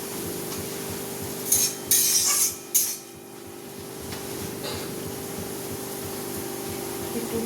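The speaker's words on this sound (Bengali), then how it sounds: "এভাবে নাড়াচাড়া করতে থাকবেন, ছাড়িয়ে ছাড়িয়ে দিতে থাকবেন।" A spatula stirs vegetarian bottle gourd leaf paste in a pan, giving a few short scraping strokes early on, then only a faint steady background hum.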